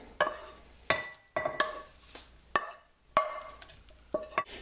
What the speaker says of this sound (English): mix in the spinach and onions that you just sauteed